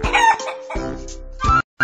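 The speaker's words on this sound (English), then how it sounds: "A chicken sounds like this." Cartoon chicken sound effect in a Mickey Mouse Clubhouse flash game: three short, loud clucking bursts in quick succession, clear and isolated against silence.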